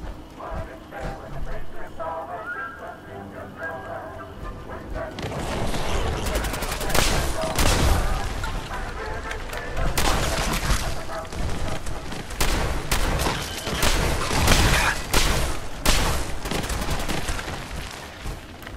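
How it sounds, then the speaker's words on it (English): Explosive shotgun blasts in Fallout 4 fired at close range, a rapid series of loud booming bursts with chaotic debris and combat noise, while a voice talks intermittently underneath. "Maybe the explosive shotgun doesn't seem like the best thing, because I'm shooting at my feet."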